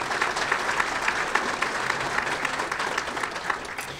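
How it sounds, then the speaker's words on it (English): An audience at a university awards lunch applauds, a steady wash of clapping from a crowd that stays even for the whole stretch. "So why don't you give yourselves a round of applause for coming out."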